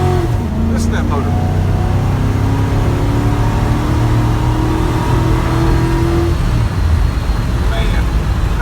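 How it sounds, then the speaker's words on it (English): An LS-swapped 1985 Ford F150 engine runs loud and steady up close, with a rising rev early on and sustained engine drone throughout, with some talking mixed in. "Listen to that motor."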